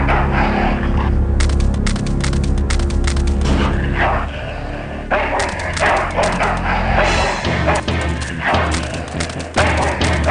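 A dog barks repeatedly in the Full Throttle video game, loud yips and bow-wows mixed with thuds and booming game effects over a steady background score.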